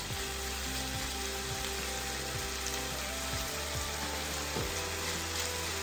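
Pepper steak with garlic sizzles steadily in a hot pan as a stir fry, a dense continuous crackle with occasional clinks of a utensil, close and unbroken.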